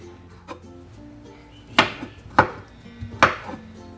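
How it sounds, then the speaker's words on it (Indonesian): A knife chops garlic cloves on a cutting board, giving three sharp, distinct thuds spaced about half a second apart, with a few softer taps before them, close and clear with no talking. "Selanjutnya, saya akan iris-iris bawang putih."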